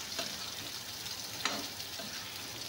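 Potatoes frying in a pan with spices and red chili powder, a low steady sizzle with a few soft stirring scrapes and clinks, quiet and close with no speech.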